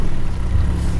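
A Nissan Patrol 4x4 with a turbo drives along with its engine giving a loud, steady low drone and a smooth even rumble from inside the cabin.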